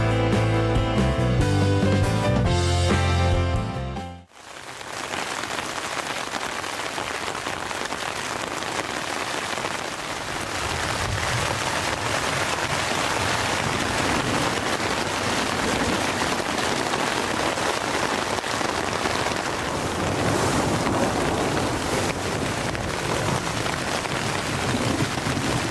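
Steady rain falls on a lakeside campsite in a wilderness provincial park, a dense, even hiss of drops pattering on surfaces that holds throughout, preceded by a brief few seconds of other sound before it settles in.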